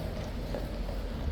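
Hooves of King's Guard horses clip-clop on wet ground, a steady muffled rhythm of several beats under faint background murmur.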